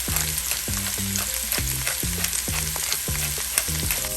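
Shrimp, onions and fajita vegetables sizzle loudly in a hot pan, with a steady close frying hiss and a regular, rhythmic clack of a utensil stirring them. Nothing else is heard.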